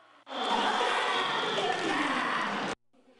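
Spectators cheering at a national youth ssireum wrestling tournament in an arena, a loud sustained roar of shouting voices that cuts in and cuts off abruptly.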